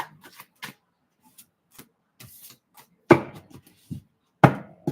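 Tarot cards being shuffled by hand, a series of soft riffling and slapping bursts, close and sparse with quiet gaps between them.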